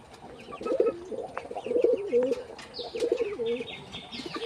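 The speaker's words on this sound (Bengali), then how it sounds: "এই যে এটিতে হচ্ছে ময়ূরপঙ্খী কবুতর আর তাছাড়া এখানে গিরিবাজ কবুতর আছে দেশি কবুতর আছে" Pigeons coo repeatedly in soft rolling phrases close by, with small birds chirping higher in the background and some light rustling.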